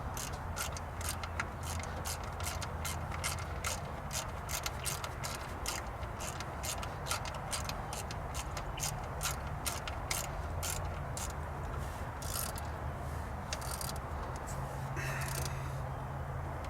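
Ratchet clicking in a fast, steady rhythm while tightening a tensioner pulley bolt into the aluminum engine block of a 4.6 Grand Marquis or Crown Victoria, close and fairly quiet, with brief pauses between runs of clicks.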